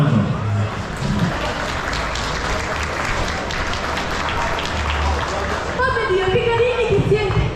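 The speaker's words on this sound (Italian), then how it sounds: "Un applauso!" Audience at a cosplay contest at a comics convention claps in a steady, dense round of applause, with a voice and some cheering rising near the end.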